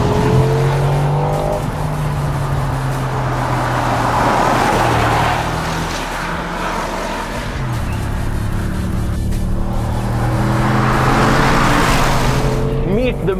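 A 2024 Mercedes-AMG G 63 4x4 roars loudly as it accelerates, its engine note climbing and dropping through gear changes, with tire noise and rushing sound close by.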